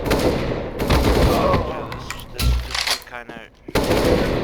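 Rapid bursts of automatic gunfire from the video game CS:GO while pre-firing angles, loud repeated shots in several volleys with a person speaking briefly in between.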